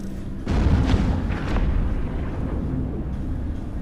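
A battleship blowing up in the EVE Echoes space game, a loud low rumbling blast at about half a second followed by sustained roaring debris and deep booming that fills the rest, with no talk.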